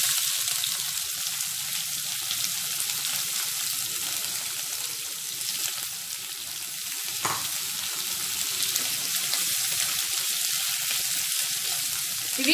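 Chopped onions and curry leaves fry in hot oil in a pan, giving a steady, dense sizzle throughout with a brief stir partway, close and fairly loud with no talking.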